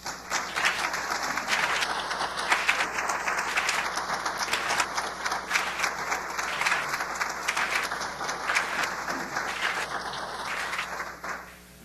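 A large audience applauds to welcome speaker Rex Tillerson at a keynote event, sustained loud even clapping that fades out at the end.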